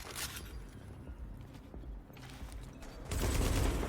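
Rapid gunfire from a firefight in The Division, a broadband crackle of repeated shots that swells louder near the end, with no talking.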